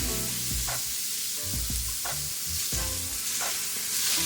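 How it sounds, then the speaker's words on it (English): Ground beef crumbled in a hot pan for tacos, frying with a constant loud sizzle, punctuated by several dull knocks and scrapes as the meat is broken apart, no talking. "And crumble the ground beef up in the pan."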